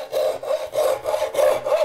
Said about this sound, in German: Das Sägen ist körperlich anstrengend, denn Ahorn ist ein hartes Holz.